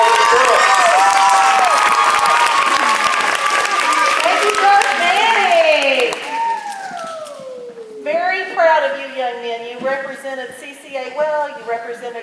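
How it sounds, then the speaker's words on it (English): A pep rally audience applauds and cheers for a school basketball team, loud and continuous at first. The clapping thins after about six seconds as excited voices and shouts take over. "let's give these guys a round of applause"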